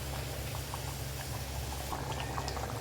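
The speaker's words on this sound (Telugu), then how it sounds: "ఇంకా 2 నిమిషాలు ఉడకాలండి" Goat head curry with coriander powder boils steadily in a pot, giving a continuous close bubbling and simmering texture with a low steady hum underneath and no talk.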